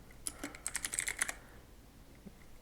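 A burst of rapid computer keyboard typing, a quick run of light clicky keystrokes for about a second, close and fairly quiet, followed by near silence with one faint tap.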